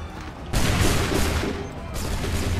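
Soldiers' muskets fire in a massed volley in Assassin's Creed III, a loud ragged burst of gunfire that breaks in suddenly and sustains with crackling shots, then a second surge of firing, with battlefield noise throughout.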